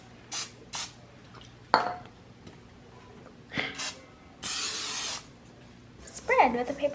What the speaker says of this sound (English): now I'm gonna be spraying some oil onto this bowl where I put the dough